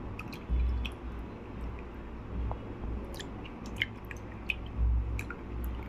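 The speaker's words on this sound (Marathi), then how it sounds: "एक एक एक एक काळव असं व्यवस्थित धुवून घ्यायचा" Clams being washed by hand for a Maharashtrian seafood dish, with soft wet squishing and rubbing sounds, faint dripping and occasional small clicks of shells, close and quiet with no talk.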